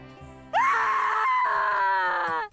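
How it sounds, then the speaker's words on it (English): A single loud, drawn-out scream from a character in the tactical role-playing game Triangle Strategy, rising sharply after a quiet moment and held for about two seconds before cutting off. "that's a big scream!"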